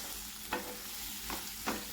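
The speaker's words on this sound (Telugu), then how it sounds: "వేసుకున్నాక బాగా ఇలా ఫ్రై చేసుకోవాలి" Chilli powder fries for a potato masala curry with green chillies in the pan: a constant close sizzle broken by three scraping stirs at uneven intervals.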